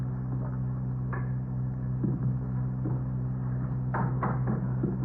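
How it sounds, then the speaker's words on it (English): In an old-time radio police drama, a door is opened, heard as a few muffled knocks and mechanical clunks over a steady low hum, with no talk over it. "Go ahead. Open the door."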